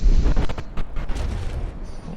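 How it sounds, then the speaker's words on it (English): A warship's naval guns fire a volley in a dreadnought battle video game, giving heavy, rumbling booms that roll on loud and close with a windy, blasting tail. "Okay, shots away. Another volley."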